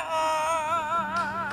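A parrot sings a warbling, melodic tune close by, its voice wavering with a steady vibrato, with no other sounds around it.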